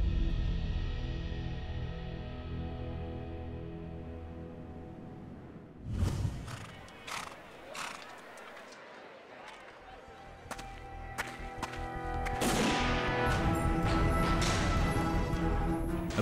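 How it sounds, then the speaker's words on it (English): Racehorses gallop from the starting gate on open grassland near the Ili River, bursts of hoof thuds and cracking whips arriving over a steady background drone with music. "the horses gallop from the starting gate."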